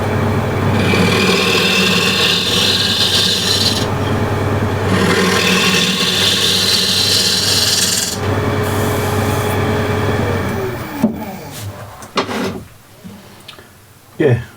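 A freshly burred cabinet scraper is drawn across an Osage orange wood plate in repeated broadband scraping strokes, loud and close, fading into quieter handling noises near the end.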